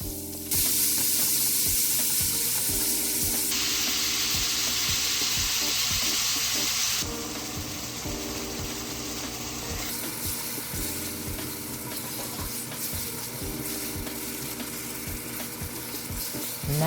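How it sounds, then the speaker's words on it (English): Ground chuck frying in vegetable oil in a pot gives a loud, steady sizzle with occasional stirring scrapes, close up and continuous, with no voices. "Now we're gonna cook this ground chuck until there's no more pink"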